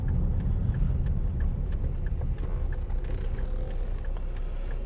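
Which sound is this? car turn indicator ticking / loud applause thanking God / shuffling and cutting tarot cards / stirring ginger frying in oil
car turn indicator ticking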